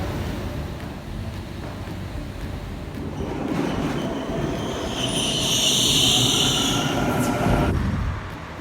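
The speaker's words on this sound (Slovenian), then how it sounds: "Še malo se gremo s podzemno furo takole." A Sydney subway train ride: a continuous rumble of wheels on rails under the carriage swells as the train gathers speed, topped by a rising metallic squeal before easing off, heard from inside without talking.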